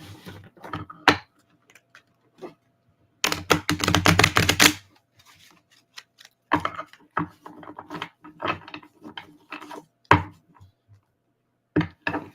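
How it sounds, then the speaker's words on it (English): A deck of playing cards shuffled close to a microphone, a dense riffling burst in the middle surrounded by scattered taps and clicks of cards being handled, with quiet pauses between. "Give you some good ASMR of card shuffling."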